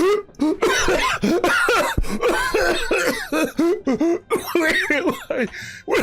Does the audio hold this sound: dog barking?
no